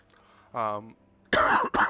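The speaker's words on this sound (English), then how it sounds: "I have a bit of a bad cough." Two short throaty coughs from a person with a bad cough, close and fairly loud, separated by a brief pause of quiet.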